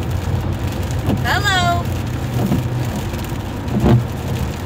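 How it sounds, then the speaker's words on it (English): Rain drums steadily on a moving car with winter wipers sweeping the glass, a continuous low wash of road and rain noise with a few soft thumps; a voice briefly speaks over it. "I hope you don't get annoyed by the fact that it's raining and I have my winter wipers on."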